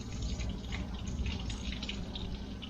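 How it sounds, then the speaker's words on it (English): Water running steadily from a sink tap on a boat, a constant close splashing flow with no pauses and no voices. "Can you shut the water, please?"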